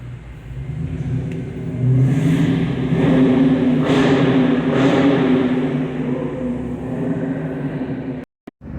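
A Dodge Challenger cruising on the road, its engine a steady mid-pitched rumble with swelling revs under continuous road and wind noise, close and loud throughout, cutting off abruptly near the end.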